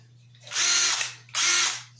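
A DeWalt 12V Xtreme impact wrench spins a bolt out in two close, loud bursts of high whirring, each lasting about half a second and separated by a short pause, with a faint steady hum underneath.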